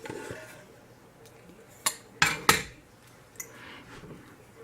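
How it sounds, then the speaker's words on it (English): Lid of a cultured butter container being opened in a kitchen: a few sharp plastic clicks and snaps close by, three quick ones clustered together and a lighter one after, over quiet room tone. "Let me get the lid open."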